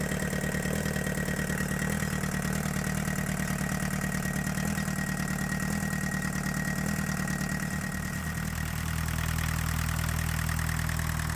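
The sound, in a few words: 1984 Volkswagen Jetta diesel engine idling, misfiring cylinder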